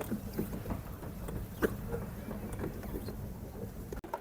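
A pedal boat on a lake at R.D.A. Park in Rajshahi churns along with a soft, continuous mechanical whir and light water splashing, joined by faint scattered creaks and taps, quiet and close.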